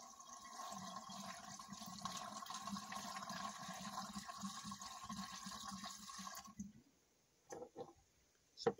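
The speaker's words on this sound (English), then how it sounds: "I'm gonna fill it as much as I can, and then I'm gonna start the engine." Coolant is poured into the cooling system of a Mercruiser M470 marine engine. A steady liquid rush and gurgle runs close by for several seconds, then stops, leaving a few brief splashes and knocks in near silence.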